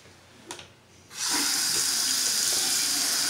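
Water pours steadily from a bathroom sink faucet, starting abruptly after a brief clatter and then running loud and constant without a break.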